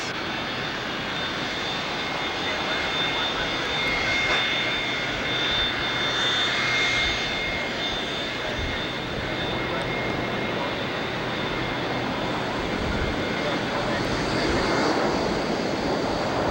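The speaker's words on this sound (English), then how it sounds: "Here comes 998 UA, which is an ex-Frontier 737-200." A Boeing 737-200 jet airliner at San Francisco airport gives a steady, broad engine roar that fills the whole stretch, loud and close, swelling slightly as it passes with no break.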